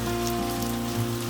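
Heavy typhoon rain pours steadily onto a surface close by, a continuous dense wash of drops with a low steady hum beneath it and no voices.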